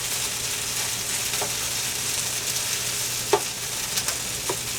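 Okra and corn frying and browning in a pan, an even, continuous sizzle with a few soft stirring taps and clicks.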